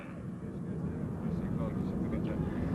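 Military aircraft flying in formation at a 1991 air show at Quonset Air National Guard Base, a steady broad engine roar holding throughout under a public-address announcer's voice.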